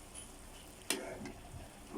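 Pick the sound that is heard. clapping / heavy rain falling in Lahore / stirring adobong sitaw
stirring adobong sitaw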